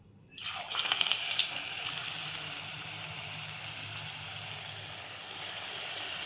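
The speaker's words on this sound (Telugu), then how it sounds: "ఇప్పుడు ఇవి ఒక్కొక్కటి ఆయిల్లో ఫ్రై చేసుకో" Sweet corn samosas deep-frying in hot oil give a steady, bubbling sizzle that starts abruptly after a moment of quiet and then holds at an even level throughout, with no talking.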